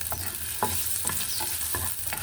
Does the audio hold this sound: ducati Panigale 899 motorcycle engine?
no